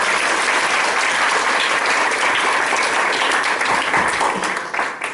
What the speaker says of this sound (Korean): 우리 블리스 앙상블 다시 한번 큰 박수로